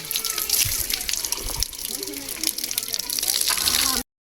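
Water pours in a steady gushing stream, close and fairly loud, running for about four seconds before stopping abruptly, with voices underneath.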